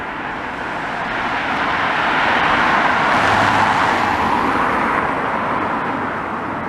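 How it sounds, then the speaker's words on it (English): Cars on a quiet, almost deserted road on a Sunday morning, one vehicle swelling as it approaches and passes close by, then easing away into a steady low hush, with no voices. "Just got the odd car now and again coming past."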